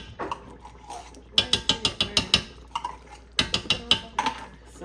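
Ingredients scooped into a pot while cooking Ghana jollof: quick rhythmic clinks and scrapes of a utensil against cookware in short bursts of several strokes, close and clear, with quiet pauses between.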